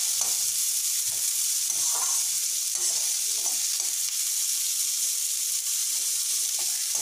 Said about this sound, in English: Let us saute it for 2 minutes.